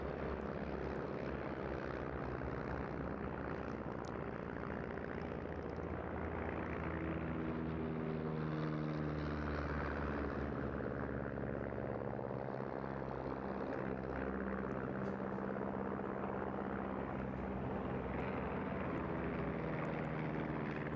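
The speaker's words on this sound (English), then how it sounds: "It's just delightful to see these aircraft doing this, all really in very close as well." Several propeller aircraft fly a close tail chase at the Eastbourne airshow, a continuous droning engine roar that rises and falls steadily throughout, with no talk over it.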